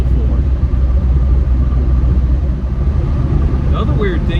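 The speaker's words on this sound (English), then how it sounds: "I can hear the tires. I've never heard these tires before." Steady broadband road and tire roar from a TDI-swapped Jeep Wrangler cruising at light throttle, loud and continuous with low rumble, a voice briefly audible near the end.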